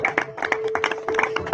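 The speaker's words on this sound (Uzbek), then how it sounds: "Onajonlarimiz hamda otajonlarimiz shaniga bitta chiroyli qarsak bo'lsin azizlar." An audience claps for parents at a family stage event, brisk hand claps rising and falling in bursts over under two seconds, with a steady tone humming beneath.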